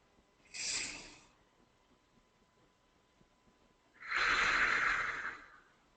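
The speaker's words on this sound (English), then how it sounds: "And again, breathe in." Deep breaths taken during a guided breathing exercise: a short inhale near the start, a pause, then a longer, louder breath about four seconds in, close to the microphone with no talking.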